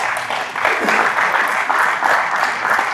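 An audience claps continuously for a few seconds, a dense, even wash of applause with no voices standing out.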